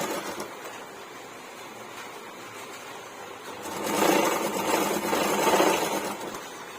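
A sewing machine stitches lining onto an old saree being made into an umbrella gown, a steady mechanical whir that runs on quietly, then swells louder for a few seconds before easing off again.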